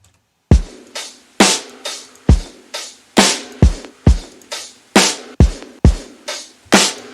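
Deep, punchy layered kick drum hits with an 808-type sub kick land one after another in a steady pulse, each with a booming sub tail that decays quickly.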